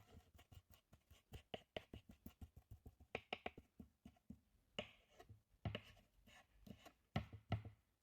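Rapid, quiet knife strokes finely chopping fresh dill on a board, a steady run of crisp taps that breaks into short bursts, close up.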